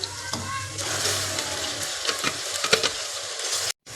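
A ginger, garlic and chili paste hits a pan of light-browned frying onions, giving a loud, steady sizzle with crackling pops and stirring scrapes that stops abruptly near the end.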